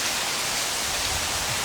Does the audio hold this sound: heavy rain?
yes